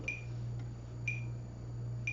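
Sharp electronic clicks tick at an even pulse, about one per second, over a low steady hum, quiet and close.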